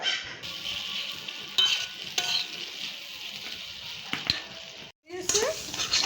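Minced chicken fries in a pan with a soft steady sizzle, punctuated by several scraping stirs of a utensil against the pan, close up and moderately loud.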